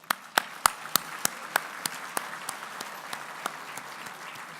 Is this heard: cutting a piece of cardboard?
no